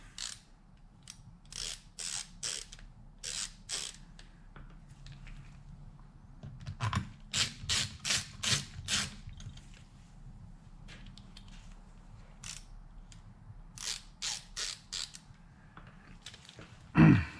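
Float bowl screws being backed out of a Mikuni TDMR40 carburettor from a Ducati 900SS, heard as repeated quick ratcheting clicks in short bursts, close and fairly quiet, with pauses between runs.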